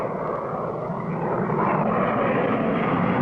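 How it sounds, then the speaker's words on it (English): A plane's engine drones steadily, a full, continuous mid-range hum that swells slightly louder partway through, heard alone without speech. "I see Hatchett's plane now."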